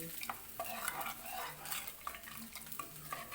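Dried red chillies sizzling in tempering oil for a tamarind-based curry, with a soft crackle and repeated light stirring scrapes against the pan, fairly faint.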